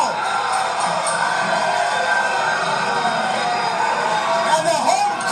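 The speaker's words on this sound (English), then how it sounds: "the hometown Santa Ana crowd comes to life" A hometown Santa Ana crowd at an MMA fight cheers and whoops steadily in a large venue, a sustained roar with occasional yells rising through it.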